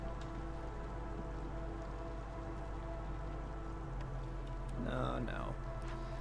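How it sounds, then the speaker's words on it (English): Steady rain falls in the video game Against the Storm as a constant soft hiss, with a brief tonal game sound near the end. "It's always raining."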